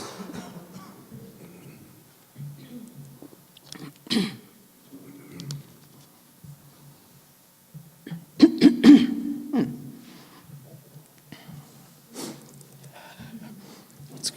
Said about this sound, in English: I think I just really have to cough.